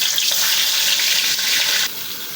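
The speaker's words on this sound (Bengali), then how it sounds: "প্রথমে পটলগুলো ভেজে নেব।" Pointed gourd (potol) frying in hot oil in a wok, a steady loud hiss that drops a little near the end.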